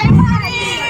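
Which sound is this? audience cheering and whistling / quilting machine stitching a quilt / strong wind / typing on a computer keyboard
audience cheering and whistling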